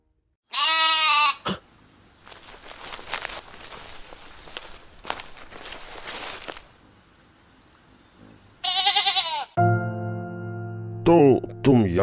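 A sheep bleats in loud wavering bursts at the start and again later, separated by rustling footsteps and movement on the ground, with a further tonal call near the end.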